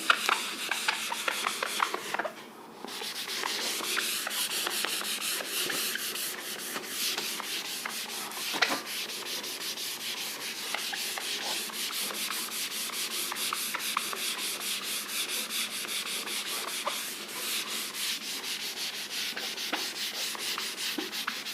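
Writing is rubbed off a classroom board in brisk, rhythmic back-and-forth strokes, close and continuous, with a short pause near the start.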